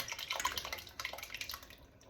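Crushed tomatoes for a smooth pasta sauce are dumped into a sieve resting over a pan, giving a brief run of wet splattering drips and trickles that fade out near the end.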